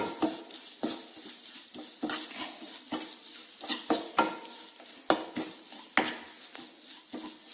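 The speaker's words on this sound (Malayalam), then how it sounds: "ആവശ്യത്തിന് ഉപ്പ് ഇതെല്ലാം ചേർത്ത് നല്ലോണം മിക്സ് ചെയ്ത്" A spoon stirs Malabar chicken curry ingredients with salt in a pot, making irregular scraping and clinking knocks against the metal over a faint sizzle. The sound is close and soft.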